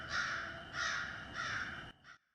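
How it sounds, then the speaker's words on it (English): A crow caws three times in slow, even succession, hoarse and fairly distant, then gives a shorter fourth call before going quiet. "Very quiet bird noises."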